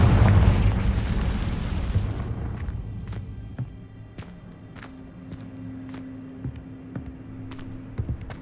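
Hogwarts Legacy's Confringo blasting spell goes off in a loud, rumbling explosion that fades over about two seconds, followed by scattered small cracks and taps of falling debris.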